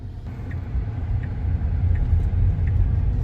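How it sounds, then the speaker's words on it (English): Steady low rumble of a car rolling over fresh asphalt, heard from inside the cabin, with road noise swelling slightly and faint periodic ticks repeating through it. "We are driving on fresh asphalt"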